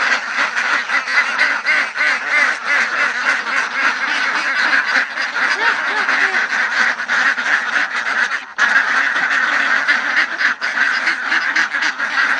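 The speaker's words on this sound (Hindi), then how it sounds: "ये बतखों का फार्म है।" Dense flock of ducks on a duck farm, many birds quacking continuously in an overlapping loud chorus, close up with no talking.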